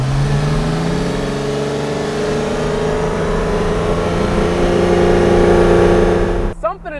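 A Lotus Evora revs and accelerates, its exhaust note rising steadily and loudly before dropping off abruptly near the end.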